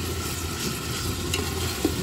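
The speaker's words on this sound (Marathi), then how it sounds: "कांदा मस्त असा परतून घ्यायचा आहे." Onions sautéing in a pan with a steady, close sizzle and soft stirring scrapes, one brief louder clink near the end, no voices.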